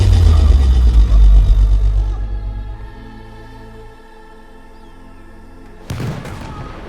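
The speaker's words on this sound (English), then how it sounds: "God, what was that explosion?" An explosion sounds as a heavy, loud low-end boom and rumble that slowly fades over a few seconds into a quiet ringing tail, followed by a sudden sharp burst near the end.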